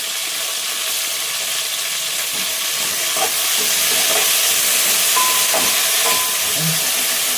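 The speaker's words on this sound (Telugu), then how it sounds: "పుదీనా ఇవన్నీ మంచిగా ఫ్రై చేసుకోవాలి ఇవన్నీ వేగాలి మంచిగా" Mint, coriander and other okra chutney ingredients fry in a pan with a steady, close sizzling hiss, punctuated by a few faint stirring clicks throughout.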